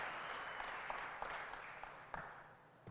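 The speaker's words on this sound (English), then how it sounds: "Can we get a round of applause" Audience applause at a tech community event, steady dense clapping from a crowd lasting about three seconds at moderate level, with a few sharper claps standing out.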